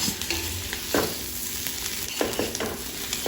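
Potato pieces fry in oil in a pan for a potato roast, a soft continuous sizzle broken by a few sharp scrapes as a spoon stirs them, close and fairly quiet, with no talking.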